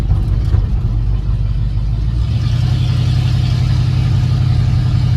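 A 1978 Ford short bed conversion truck drives down the road, its engine a loud, close, continuous rumble with road noise that steps to a new pitch partway through.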